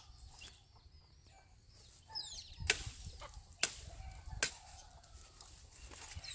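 Chickens on a small ranch cluck softly with scattered sharp calls and a few louder bursts, hens with chicks moving about outdoors, with no talking.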